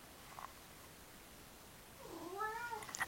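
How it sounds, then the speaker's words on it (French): A pet cat named Zéphyr lets out a single soft meow that rises and then falls, close by but faint, after a stretch of quiet room tone with no talking. "Qu'est-ce qu'il y a mon chat, t'es d'accord avec moi? Quoi, miaou?"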